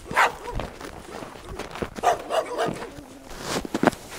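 A dog barks repeatedly near an open gate on a chained property, with several sharp, uneven barks spread across the clip and quieter rustling and movement in between.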